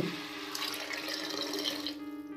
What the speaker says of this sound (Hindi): अब डाल दे रहे इसमें एक कप पानी